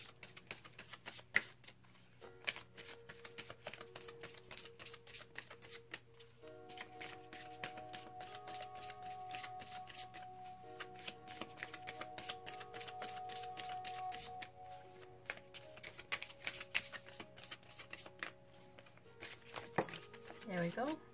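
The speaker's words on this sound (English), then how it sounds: "I'm going to pull a card." Tarot cards are shuffled steadily at close range for a long stretch, a soft continuous riffling and tapping of the deck under a quiet background tone, with occasional louder slaps.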